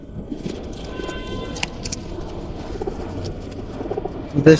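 Pigeons at an open-air pigeon market in Kathakhali, Rajshahi, with faint cooing and bird calls under a steady crowd murmur, occasional clinks and a brief louder bump at the end.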